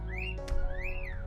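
Pet cockatiels whistling, sweeping rising and falling whistled notes repeated twice, fairly clear over a steady low hum, with a brief sharp noise between them.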